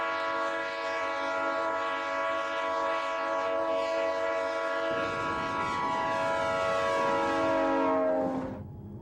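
A train passes a railroad crossing with its horn blaring, a loud sustained chord held for several seconds as rumbling wheels join in, then cut off abruptly near the end, with no talking.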